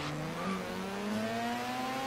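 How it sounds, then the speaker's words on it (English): A Mazda RX-7 with a rotary Wankel engine idling in Forza Horizon 3: a steady, loud, throbbing burble with a gently rising hum, heard alone for a couple of seconds. "Listen to that burble. I haven't heard an idle like that in this game ever"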